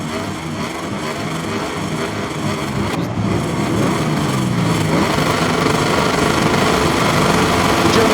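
MotoGP race motorcycles rev their engines at the start of a Grand Prix, a dense mass of high, buzzing engine noise that swells steadily louder.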